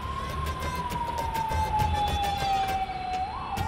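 Ambulance siren on a Hyderabad road, a single sustained wailing tone that slowly falls in pitch before rising again at the end, moderately distant over faint traffic rumble.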